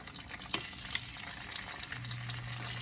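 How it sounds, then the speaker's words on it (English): Cut tofu pieces frying in hot oil, a soft steady sizzle with a few sharp crackles and pops near the start and a faint low hum joining partway through. "I'm dropping them in oil"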